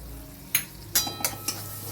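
Flour is stirred into melted butter in a wok: several distinct metallic spoon scrapes and clinks against the pan, spaced irregularly over a quiet low background, close by and without speech.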